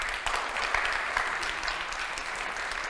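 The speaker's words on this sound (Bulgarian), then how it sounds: "Затова ви предлагам да окуражим с аплодисменти първият ми гост днес" An audience claps warmly to welcome a guest onto the stage at a Bulgarian public talk, a thick and constant wash of applause from many hands that holds steady throughout.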